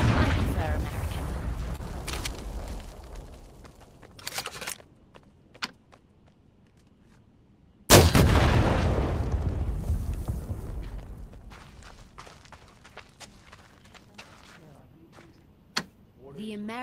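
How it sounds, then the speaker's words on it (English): The American M9A1 bazooka fires in the video game Medal of Honor: Above and Beyond, with a sharp close blast followed by a long decaying rumble, a second loud launch blast midway, and scattered clicks and thuds between. "American M9A1 bazooka."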